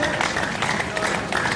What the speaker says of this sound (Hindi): जोरदार तालियां बजाते हुए,